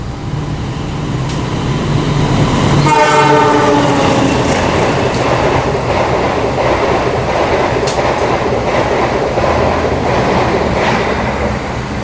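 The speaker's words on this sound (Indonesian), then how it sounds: "persiapan melintas kereta api Turangga" A Turangga passenger train passes close by at night, its loud, steady roar of wheels and carriages building suddenly and then rumbling continuously with rhythmic clatter.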